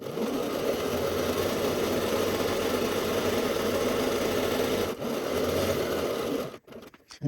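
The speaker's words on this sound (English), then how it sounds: "Now at the bottom here, I'm sewing about 1/2 inch away from that raw edge" A sewing machine stitches a shirt seam, a continuous close, loud mechanical hum with fast needle vibration that pauses briefly midway and stops near the end.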